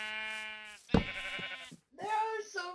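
Sheep in the Minecraft video game, a long drawn-out bleat followed by a sharp thump and then shorter bleating cries, close and clear.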